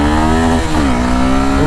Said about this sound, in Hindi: डुअल एग्जॉस्ट है बट साउंड बूमी नहीं है, साउंड थोड़ा सा थम्पियर क्रिस्पियर साउंड है।